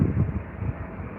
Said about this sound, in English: this one coming in now is doing about 160 miles an hour on the approach to the runway